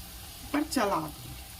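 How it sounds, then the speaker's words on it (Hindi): Rice goes into a hot pan and is stirred, giving a soft, brief sizzle and scrape close by while a voice speaks over it. "और चावल डाल दूंगी। बहुत धीरे से डालिएगा। और एक बार चला दूंगी"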